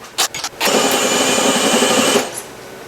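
A power drill boring into a rusty truck's body panel, a short trigger blip and a couple of quick taps, then about a second and a half of steady high whine that cuts off, close and loud with no talk.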